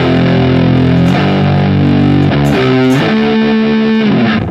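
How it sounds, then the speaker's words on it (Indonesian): Distorted electric offset guitar played through the neck pickup, thick and rounded, with sustained chords changing every second or so and a loud, steady level with no talk. "Oke, kita pakai suara neck."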